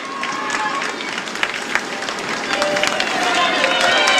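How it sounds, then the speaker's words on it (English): Polite applause and scattered clapping from roadside spectators along a Tour de France stage route past medieval half-timbered buildings, a steady crowd wash under an English commentator's voice. "Polite applause."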